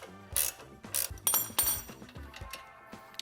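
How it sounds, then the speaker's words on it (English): Ratchet wrench removing an 18 millimeter nut on a Silverado ZR2 spindle: several close bursts of rapid ratcheting clicks with metallic clinks and brief pauses between. "So we're going to support it, remove that 18 millimeter nut."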